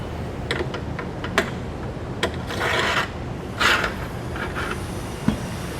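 Bolts slide into the mounting channel for motorized running boards on a 2020 Toyota, producing rough metallic scraping and rasping with a few sharp ticks and knocks, close by and without speech.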